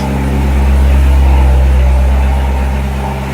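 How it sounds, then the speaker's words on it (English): A Chevrolet Corvette C7 Z06 cold start: a loud, deep engine roars steadily up close, a heavy low rumble that holds strong throughout with no voices. "We're going to do a cold start on the C7Z06."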